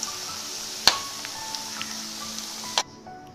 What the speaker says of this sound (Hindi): हमारे आलू फ्राई हो चुके हैं।